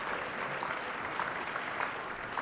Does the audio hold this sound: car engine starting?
no